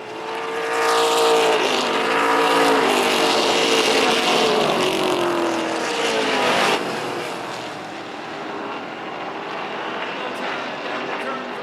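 Racing motorcycles on a track scream past in a loud, close pass whose pitch sweeps down, then fades toward the end, with a commentator talking over them.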